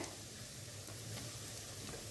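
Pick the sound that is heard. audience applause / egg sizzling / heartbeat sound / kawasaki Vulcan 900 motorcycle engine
egg sizzling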